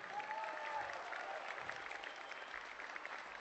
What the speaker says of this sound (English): big round of applause for Johnny Volpine and Magnus Derridian.